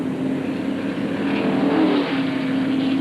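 1997 NASCAR race cars flashing past on track, a loud, sustained engine roar with a rising and falling whine as the leaders pass, with no voices.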